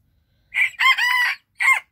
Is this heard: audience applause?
no